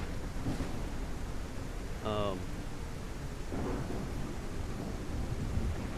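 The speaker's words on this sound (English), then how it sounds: "The storm's pretty loud" In the survival video game Surroundead, a thunderstorm brings steady, hissing rain with low rumbles of thunder, and a short tonal chirp cuts through partway.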